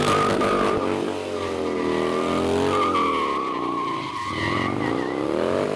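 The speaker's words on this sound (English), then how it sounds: "you can grab front brake and turn it into a standstill burnout" A motorcycle does a standstill burnout with the front brake held: a loud, sustained tire screech over a revving engine, the pitch wavering as the throttle rises and falls.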